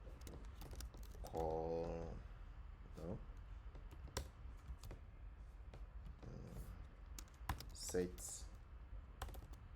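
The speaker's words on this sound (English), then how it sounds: "Okay, let's just type it." Quiet keystrokes on a computer keyboard as code is typed, with scattered soft clicks and short bursts under brief low talk.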